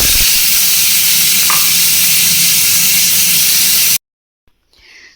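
Bitter gourd with poppy seeds frying in ghee, giving a loud, steady sizzle for about four seconds before cutting to near silence with faint rustling.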